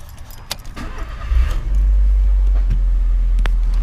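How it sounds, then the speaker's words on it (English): A car engine cranks on a weak battery beside a bike being charged, a few faint clicks and jangles giving way to a steady, loud low rumble that holds to the end. "I'm gonna start the car."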